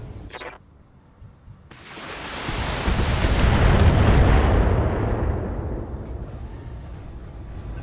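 Missiles striking a mech in the Battletech video game: a sudden loud rumbling blast that swells into a long, heavy roar, peaks midway and slowly fades, with a few small pops and a short burst before it.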